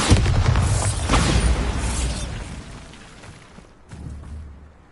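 A Bombarda blasting spell detonates in Hogwarts Legacy, a heavy rumbling boom with debris-like crackle that swells twice and slowly fades, followed by a softer thud near the end.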